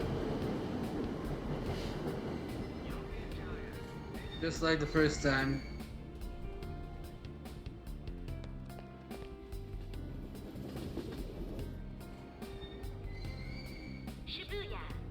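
A train ride in the video game Persona 5 Royal heading into Shibuya: steady rumbling carriage noise with rhythmic clicks runs throughout under game music, with a voice speaking briefly near the start.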